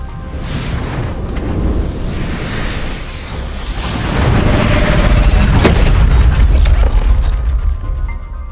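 Antimatter weapon blasts in the game Love and Deepspace: loud, dense booming detonations and crackling bursts rolling continuously, with a sharp crack near the middle and heavier rumbling in the latter half.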